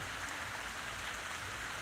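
Heavy rain falls steadily outdoors after summer heat, a brief, even wash of hissing noise with no breaks, soft in level.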